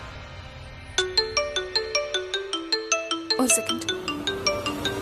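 A melodic mobile phone ringtone plays in repeating chiming phrases while an outgoing call rings in a Malayalam TV serial scene, steady and close, with a short spoken interjection partway through.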